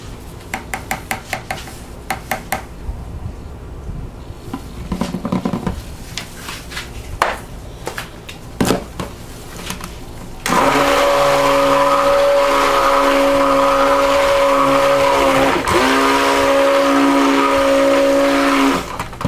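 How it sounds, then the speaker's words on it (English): A stick blender buzzes loudly and steadily through soap batter as cocoa powder is mixed in for peppermint bark soap, a continuous whir with slight dips, preceded by clinks and taps of utensils against containers. "I'm going to throw some cocoa powder in there and then buzz it up"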